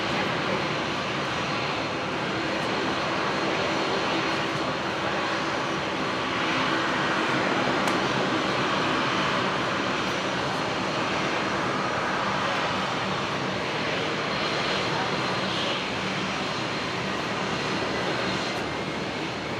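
Fokker aircraft running its engines up on the far side of Brisbane International Airport: a steady, broad distant roar that holds level throughout with slight swells, no talk over it.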